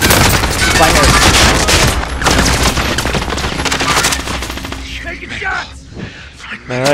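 Dense, continuous automatic gunfire from Call of Duty: Modern Warfare roars in loud, overlapping bursts and booms, easing off slightly toward the end.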